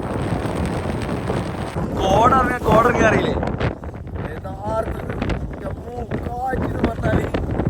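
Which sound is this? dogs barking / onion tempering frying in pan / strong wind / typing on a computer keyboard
strong wind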